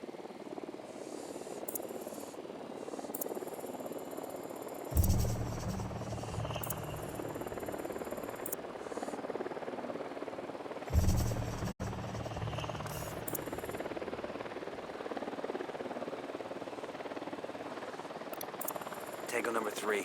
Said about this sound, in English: Chopper's approaching.